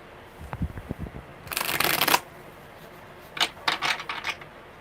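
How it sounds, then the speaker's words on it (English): Tarot cards being shuffled by hand at a live reading: a few soft taps, then two bursts of crisp riffling flutter, close and fairly loud, with quiet pauses between. "One more good shuffle."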